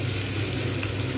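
Onions frying in oil for a Bengali moong dal with katla fish head, a continuous close hiss and crackle of steady loudness, with no voices.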